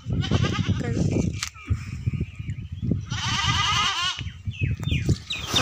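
Goats standing in a village bleat repeatedly in wavering, nasal calls, close and fairly loud, mixed with voices talking nearby.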